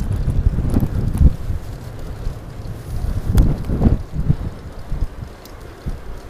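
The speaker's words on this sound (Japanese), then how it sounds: "今日は東から吹いてるの、風が。" Wind from the east buffets the microphone on a bicycle trip along the Boso Peninsula coast between Futomi and Chikura, as loud, uneven rumbling gusts that swell and fade over several seconds with no talking.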